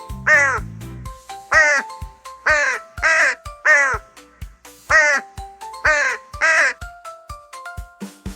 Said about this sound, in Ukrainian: Що за важна чорна птаха? Це ворона. Кар-кар-кар.